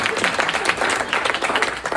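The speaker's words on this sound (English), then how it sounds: "I always love it when one person applauds." At a campaign event for a congressional candidate, applause comes from the crowd, with separate claps standing out in a fairly quick, uneven rhythm, close and moderately loud throughout.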